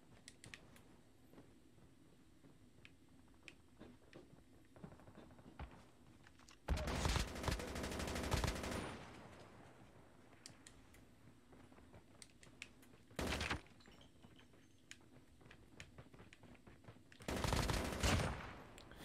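MX9 submachine gun fire in a video game with downtown gunfights: three loud rapid bursts, the first about two seconds long, then a short one and a final longer burst, over quiet background noise.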